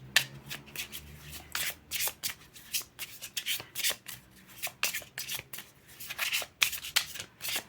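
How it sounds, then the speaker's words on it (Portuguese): Riffle shuffling of a tarot deck, a comfortably medium-sized pack, with repeated crisp bursts of card flutter and soft rubbing between them, close and steady, no voices. "Esse é um baralho bem gostosinho de embaralhar."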